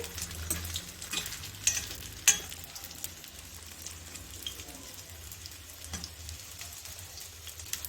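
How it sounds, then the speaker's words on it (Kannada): Egg puffs frying over a low flame in a pan, with a soft continuous sizzle broken by a few sharp clicks and taps as they are turned over. "ಈಗ ಒಂದು ಕಡೆ ಫ್ರೈ ಆಗಿದೆ ಈಗ ಇನ್ನೊಂದು ಕಡೆ ತಿರುಗಿಸ್ ಹಾಕೊಳ್ತಾ ಇದ್ದೀನಿ"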